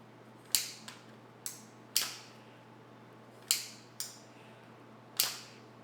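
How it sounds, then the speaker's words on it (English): Crisp mechanical clicks from a Kel-Tec RDB rifle trigger being released and pulled again come in separate pairs and singles, about eight in all, sharp and near against a quiet background hum. "if we pull it to the rearward position and we hold it all the way back, and I release the trigger and pull it again"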